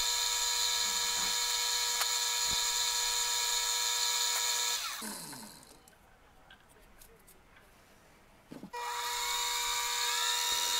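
A brass pen cap spins on a lathe while high-grit sandpaper polishes it, making a steady high-pitched whine that drops away for a few seconds in the middle and then returns at full strength.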